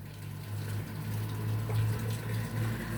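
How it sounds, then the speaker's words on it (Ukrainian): Boiling water poured from a kettle into a jar of cucumbers for pickling makes a steady, close gushing fill that runs continuously, with no talking. "залили собі звичайним кипятком"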